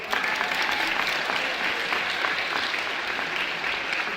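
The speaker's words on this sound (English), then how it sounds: "Can we just clap it up for him real quick?" Steady audience applause at the BMB Awards ceremony, a continuous dense patter of many hands clapping at even loudness throughout, with no speech over it.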